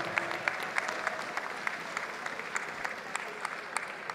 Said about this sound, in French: Voilà, on peut les applaudir.